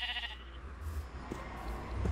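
Sheep bleating in the video game Minecraft, a couple of faint bleats over a steady hum of in-game background sound.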